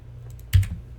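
Computer keyboard arrow keys pressed in a quiet room: a single sharp double click near the middle, with silence before and after.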